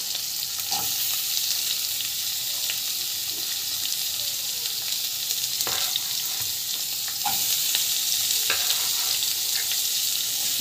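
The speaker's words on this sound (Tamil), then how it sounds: "ஆயில் வந்து இந்த ஆனியன் வந்து நல்லா வந்து ஃப்ரை ஆகட்டும்." Onions frying in oil for an Andhra-style vegetable biryani, a steady bright sizzle running the whole time with occasional soft stirring scrapes and pops.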